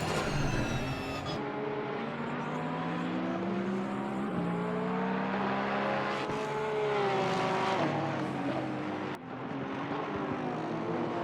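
Lexus and Porsche GT race cars at the Kyalami Grand Prix circuit, engines loud and close throughout, revs rising and falling in overlapping harmonic sweeps as the cars battle, with a brief gear-change dip near the end.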